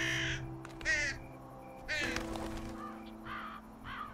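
A crow caws in the video game Spirit of Revenge: Cursed Castle, several harsh, clear calls spaced apart over a low steady background hum, no talking.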